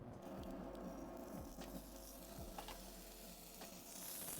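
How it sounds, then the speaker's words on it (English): Chicken sizzles in a hot pan for Indian curry, a steady low crackle and spatter with soft stirring scrapes and occasional pops, fairly quiet and close, without speech. "you should have a nice sizzle sound as soon as you drop it in."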